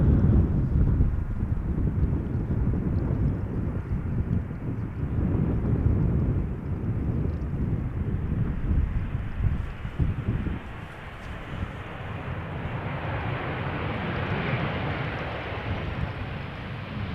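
A jet airliner passes overhead near Amsterdam Schiphol Airport, a loud, sustained low roar mixed with wind buffeting that slowly shifts into a higher rushing whine as it moves off.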